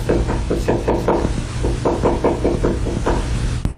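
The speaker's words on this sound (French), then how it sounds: "On dirait que quelqu'un frappe avec insistance à la porte" Insistent knocking on a door, about a dozen loud, close, evenly spaced thuds in a steady rapid rhythm with a faint background hum.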